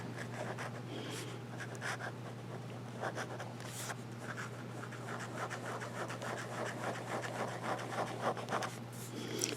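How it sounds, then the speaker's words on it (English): A Vanishing Point fountain pen nib moves lightly across paper with almost no pressure, giving soft, close scratching strokes in irregular bursts over a faint steady hum. "when you're doing reverse writing with this nib, or really with any nib, you don't want to apply a lot of pressure"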